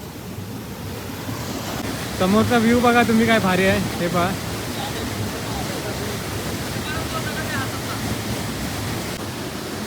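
Streams and a river flow down from mountains, giving a steady, broad rushing-water roar throughout while someone talks briefly over it.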